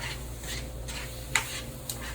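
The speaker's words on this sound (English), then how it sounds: "And just stir it around." Caribbean stir fry stirred in a pan with a spoon, giving faint, intermittent scrapes and clinks over a quiet kitchen background, with one sharper tap midway.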